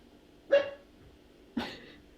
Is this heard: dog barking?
yes